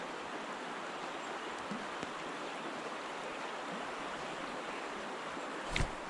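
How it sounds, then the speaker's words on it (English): Steady hissing rain patters continuously outdoors while trout fishing by water, a broad even wash of sound with no voices and a brief soft bump near the end. "it's starting to rain again"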